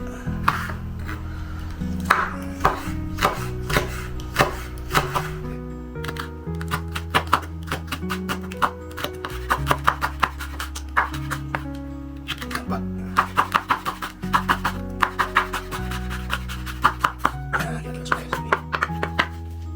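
Knife slicing red chili peppers on a cutting board, a rapid run of sharp, close taps and scrapes with uneven rhythm, heard alongside someone speaking Indonesian.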